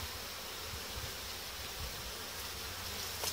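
Honeybees inside a hive give off a steady, dense buzzing drone, soft and unbroken, with faint rustling and no voices over it.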